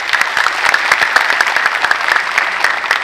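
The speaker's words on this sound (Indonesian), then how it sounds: "Tepuk tangan untuk KDN" Audience applause after a speaker's call at a public talk in Indonesia, a loud, dense burst of clapping from a sizeable crowd that holds steady throughout with no speech over it.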